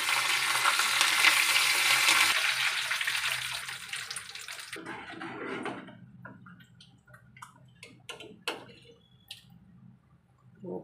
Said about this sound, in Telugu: పోపు ఇందులో వేసుకుంటున్నాను.